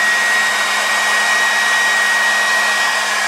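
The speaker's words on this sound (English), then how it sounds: "I'll blow dry over that one screw." A hair dryer blows over fresh paint on a goalie mask stencil, a loud, constant whooshing roar with a steady motor whine, close and unbroken, with no talking.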